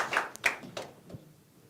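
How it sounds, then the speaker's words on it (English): A few brief claps from an audience at a political manifesto launch, short sharp bursts spaced out over a second or so, fairly faint and thin rather than sustained applause. "Let's clap for them."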